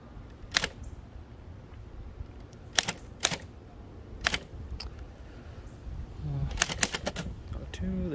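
Keys of a 1925 Remington Model 2 typewriter struck outdoors, a few sharp isolated clacks and then a quicker cluster near the end, standing clear over a steady low outdoor background with a bird or two.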